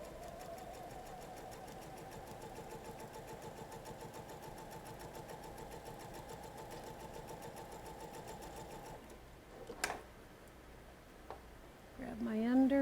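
A sewing machine runs steadily while stitching a quilt, a continuous close mechanical whir that hums for several seconds before stopping, followed by light handling noises, with a person talking quietly in between.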